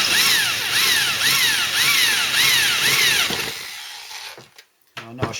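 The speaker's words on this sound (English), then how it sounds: "I know I should be probably drilling on a wood base or something." A power drill enlarges a pilot hole to 8mm in a seat unit part, whining in about six rhythmic rising pulses, then stopping, followed by a few faint clicks and handling knocks.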